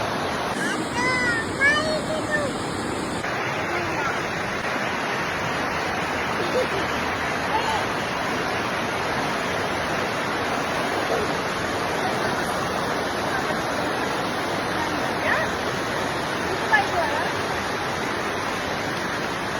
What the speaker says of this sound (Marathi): हे बघा मागे नदी वाहते